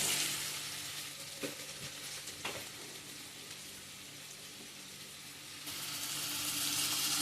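Tomato frying in a pan for a chicken curry, giving a steady broadband sizzle throughout with a few soft clicks and knocks of a utensil; the hiss swells slightly louder toward the end, with no voices.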